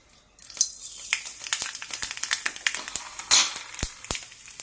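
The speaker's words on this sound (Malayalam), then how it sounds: "കടുക് പൊട്ടി തുടങ്ങിയിട്ടുണ്ട്" Sharp, irregular pops and crackles of mustard seeds bursting in hot oil, coming in quick bursts close by.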